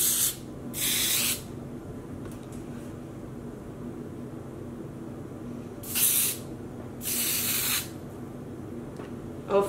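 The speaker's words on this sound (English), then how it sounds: "I can see in the air, in the sunlight, some like spray from the aerosol." Wilton Color Mist aerosol food coloring sprayed onto yarn, heard as short bursts of sharp hiss: one near the start and a pair later, close and distinct against a quiet room.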